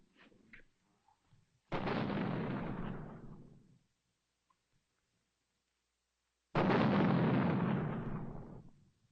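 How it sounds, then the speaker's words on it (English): Two heavy cannon blasts boom out in a Western setting, a few seconds apart. Each is a loud, deep report that rolls away slowly, with near silence between the two. "Ain't you never heard a cannon before?"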